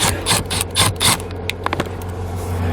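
Screws are backed out of a cabin air filter side panel on a 2019 Infiniti QX60, giving close rasping, scraping bursts in a rough rhythm over a steady low hum, then a few small clicks.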